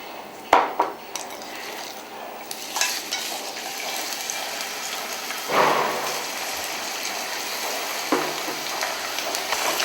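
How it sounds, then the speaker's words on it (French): Onions sautéing in oil in a pan, a soft steady sizzle with a few louder stirring scrapes and clinks, fairly quiet and without talk. "Je fais revenir mes oignons."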